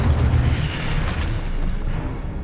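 Incendio fire spell cast in Hogwarts Legacy, a loud, dense burst of roaring fire with deep rumbling low end, sustained and fairly steady across the clip, with no voices.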